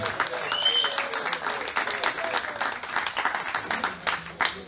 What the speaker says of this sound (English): Come on, clap him. Give it up for him one more time.